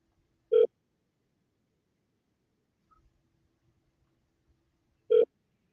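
Two short electronic phone tones during an outgoing call to real estate agents, several seconds apart, clear and isolated against near silence.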